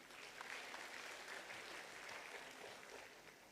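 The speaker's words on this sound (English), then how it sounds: "Can we have another round of applause for all the speakers on stage, please?" Audience applause for speakers on stage at a higher-education summit, a steady, dense clapping wash lasting throughout, fairly loud and continuous with no talk over it.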